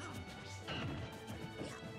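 A charged smash attack lands in Super Smash Bros. Melee with a hard crash against busy game noise, at a distance and fairly quiet.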